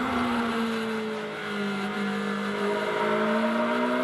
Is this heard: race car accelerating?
yes